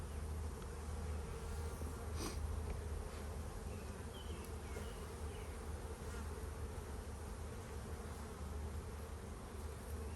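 Honeybees buzz steadily at an open, unsmoked beehive, a dense continuous drone close by that holds even throughout, with no talking.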